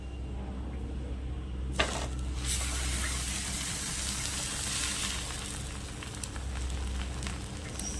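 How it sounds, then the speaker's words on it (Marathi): A paneer sandwich sizzling on a hot tawa gives a steady, close crackling hiss that begins abruptly and continues evenly, with a few faint pan knocks. "आणि आता मी हा तव्यामध्ये ॲड करते बघा हे तवा मी गरम करत ठेवला आहे"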